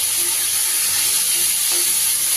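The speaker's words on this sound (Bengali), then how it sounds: "যতক্ষণ টমেটোর কাঁচা গন্ধ না যাচ্ছে খুব ভালো করে নেড়ে নেব" Onion and tomato sizzling in a hot pan while being stirred, a loud, steady frying hiss with faint scraping stirs, close and continuous with no talking.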